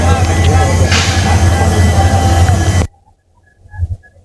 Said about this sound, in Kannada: 5 ನಿಮಿಷ ಸ್ಟಾಪ್ ಆದ್ಮೇಲೆ ನಮ್ಮ ಟ್ರೈನ್ ಡಿಪಾರ್ಚರ್ ಆಯ್ತು.